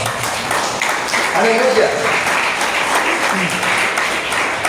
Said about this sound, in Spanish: ¿Cuánto le damos aplauso al Señor?